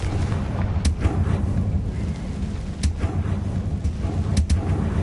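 A Confringo fire blast spell bursts in Hogwarts Legacy, with sharp crackling explosive hits cutting through a deep rumbling battle din, several distinct loud blasts spaced apart over the clip.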